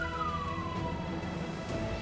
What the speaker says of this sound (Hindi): पुलिस और एम्बुलेंस आ गई हैं।